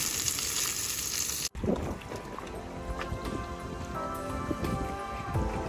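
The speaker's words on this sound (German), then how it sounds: "Da brutzelt der Fisch in der Pfanne." Fish fries in a pan on an outdoor camping stove, a crackling sizzle with scattered pops; after a brief cut near the start the sizzling continues moderately loud with occasional louder spits.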